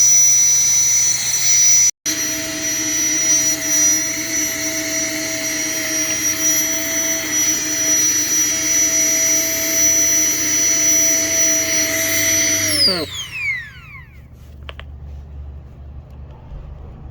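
A Klymit Static V insulated air mattress is deflated under a loud, steady motorized whine that runs for about twelve seconds, then winds down and trails off into quiet.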